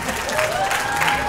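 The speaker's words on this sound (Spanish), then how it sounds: "Fuerte el aplauso, por favor." Applause from a convention show audience at Fan Expo in Viña del Mar, a dense and steady clapping crowd heard close and fairly loud throughout the short stretch.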